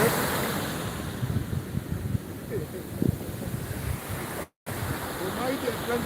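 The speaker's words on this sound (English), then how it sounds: "The mighty Atlantic Ocean." Atlantic Ocean surf breaks on the shore at Swakopmund, Namibia, a continuous broad roar of waves with wind buffeting the microphone and a brief dropout near the end.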